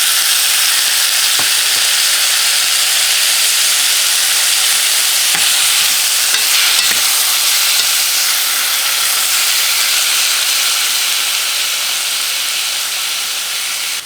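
Chopped tomatoes fry with ginger-garlic paste in a pan for a black-eyed bean curry, giving a loud, steady, close sizzle throughout, with a few faint stirring clicks and no talking.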